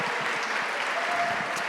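An audience at a hall of fame ceremony gives the 1983-1984 men's basketball team a round of applause, dense, steady clapping from many hands filling the room.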